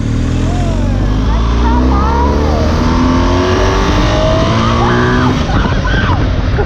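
A loud BMW R1250 motorcycle engine roars and revs close by, its pitch rising and falling, with voices talking over it.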